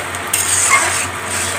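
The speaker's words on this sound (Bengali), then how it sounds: "আর হচ্ছে আপনার শুটকি তেলে ভাজবো" Dried fish (shutki) fries in oil in a pan. A continuous sizzling hiss runs near and fairly loud, with a brief stirring scrape early on and no talking.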